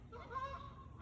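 Birds honk as they fly overhead, a brief goose-like call that rises and fades within a second, faint and distant over a soft outdoor background.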